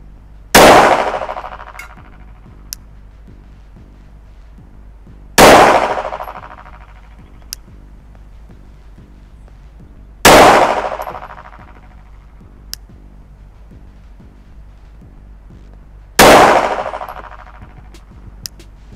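Four loud Glock 17 MOS pistol shots fired at 10 yards with open sights and 135-grain LRN rounds, evenly spaced about five seconds apart, each with a sharp crack and a ringing tail and faint metallic pings between.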